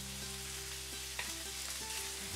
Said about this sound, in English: after adding some oil, saute and brown the pork belly